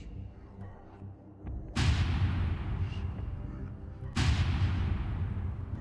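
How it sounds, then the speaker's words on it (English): Large indoor explosion effect from Halo 2, with two booming blasts, one about two seconds in and another near four seconds, each followed by a long, rumbling roar that stays loud throughout. "Explosion indoor large bar."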